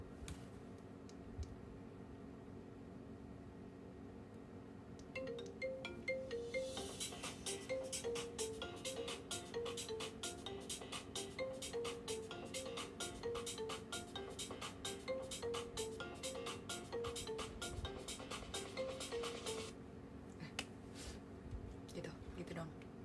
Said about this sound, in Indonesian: kalian harus denger ringtone HP aku